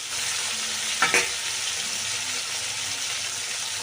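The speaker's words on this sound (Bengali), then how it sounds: "এবার নাড়াচাড়া করে নিলাম ঢাকনাটা খুলে" Cauliflower stalks fry in a pan over a medium-low gas flame with a steady, close sizzle, and a brief scrape of stirring comes about a second in. No one speaks.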